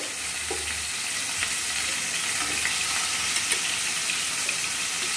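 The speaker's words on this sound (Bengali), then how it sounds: "দিদি এবার একে একে শোল মাছের টুকরোগুলো কড়াইয়ের মধ্যে দিয়ে দিচ্ছে।" Pieces of snakehead fish, rubbed with salt and turmeric, sizzle steadily in oil in a wok, a continuous close frying hiss with a few faint clinks and no talk.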